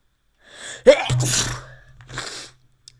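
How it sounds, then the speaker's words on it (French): One close, sharp sneeze with a quick intake of breath before it and a breathy exhale after, otherwise quiet. "Je vais éternuer."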